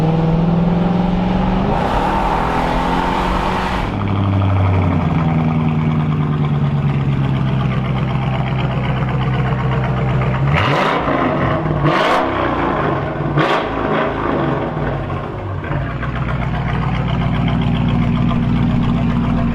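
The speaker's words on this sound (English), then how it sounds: "This car is so loud. Straight pipe through and through." A Mercedes-AMG with a straight-pipe exhaust roars loudly and close, revving and accelerating hard, pitch climbing and falling through gear changes with sharp crackling bursts midway, a sustained aggressive engine blare throughout without speech.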